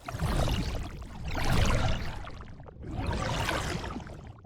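An Overwatch-style magic water spell glitter layer: shimmering, watery texture with glittery high sparkle, swelling in two broad waves over a low rumbling bed; no voices.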